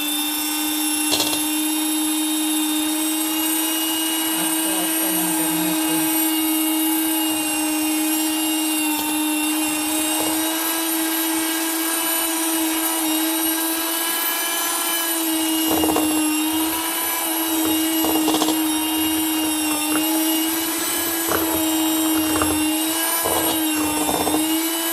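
An electric hand mixer beats biscuit batter with sugar, a steady, loud motor whine holding one pitch through the whole stretch, with faint knocks of the beaters against the bowl now and then.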